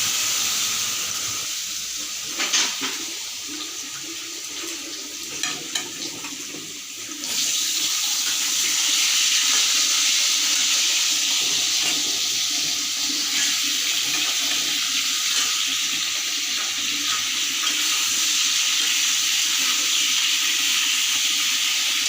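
Potatoes fry in hot oil for a fish curry meal, starting with scattered pops and crackles, then settling into a loud, continuous, hissing sizzle close by.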